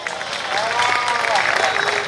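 Audience applause at a Hindi poetry recital, a broad steady wash of clapping that swells after a quieter start and holds, with a voice audible over it.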